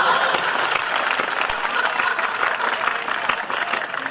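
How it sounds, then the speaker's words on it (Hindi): Audience applause at a Hindi humorous poetry gathering, a loud, dense, continuous round of clapping from a large crowd throughout. "अगले जवाब पे तालियां चाहिए।"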